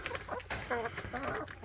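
Chickens in a mobile chicken tractor cluck in several short, close bursts, a busy overlapping flock chatter set against a steady outdoor background.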